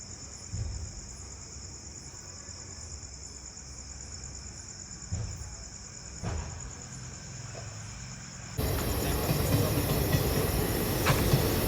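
A train rumbles past at night, its steady roar swelling louder toward the end, while crickets chirp continuously in the foreground.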